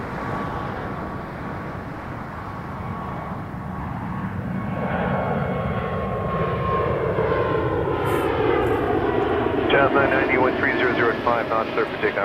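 A jet airliner takes off at Toronto Pearson Airport, its engine roar building steadily into a loud, sustained rush as it climbs away down the runway.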